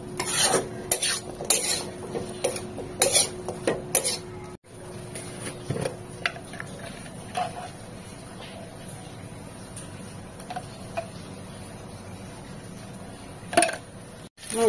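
Food is stirred and mixed in a metal pot, with brisk scraping clanks of a spoon for the first few seconds, then quieter, sparser scrapes and taps.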